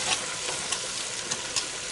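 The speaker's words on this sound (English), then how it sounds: "Time to add some tomato paste and cook that in." Tomato paste sizzling in a hot pan while being cooked into a chicken stew, a steady close frying hiss with a few brief stirring scrapes and pops.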